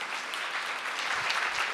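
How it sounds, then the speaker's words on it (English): An audience applauds continuously to welcome youth leaders onto a stage, a dense, even wash of many hands clapping from start to finish. "You guys can keep clapping for them."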